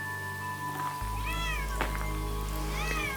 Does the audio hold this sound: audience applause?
no